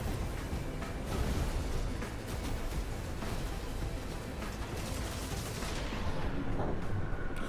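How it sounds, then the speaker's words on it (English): Missile launch and weapons fire in the mech strategy game Phantom Brigade, a dense continuous barrage of booms and gunfire that stays loud and busy throughout, with no talk. "Missile away."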